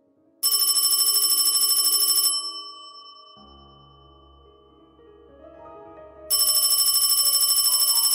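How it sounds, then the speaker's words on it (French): A telephone rings in a university lecture hall during an atomic physics class in Lund, Sweden: two loud, bright electronic ringing bursts with a quieter, lower tone between them. "son téléphone réveille les endormis au fond de l'amphi"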